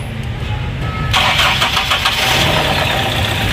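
A Toyota Revo with a stock alternator and 7K gasoline engine is cranked and starts at about one second, then runs loud and steady, close by, with a broadband roar.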